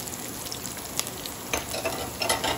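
Aromatics sautéing in a pan for a tulingan fish dish, a close, steady hiss of frying with small crackles and pops, no speech.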